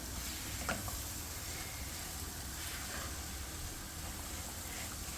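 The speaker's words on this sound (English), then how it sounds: "Just want to cook this in the roux." Vegetables sizzling in a roux for crawfish étouffée, a soft, steady frying hiss at low level with occasional faint stirring, no talking.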